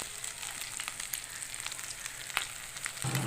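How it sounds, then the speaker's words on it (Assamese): Garlic and ginger frying in a pan make a steady, fairly quiet sizzle with faint crackles, and a light stir or clatter near the end. "প্ৰথমতে নহৰু আদাখিনি অলপমান ভালদৰে ভাজি ল'ব লাগিব"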